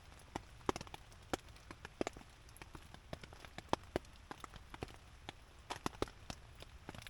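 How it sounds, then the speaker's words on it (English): Rain falls steadily at a campsite, a soft constant patter broken by scattered louder drops striking a nearby surface, with no talking. "listen to the rain."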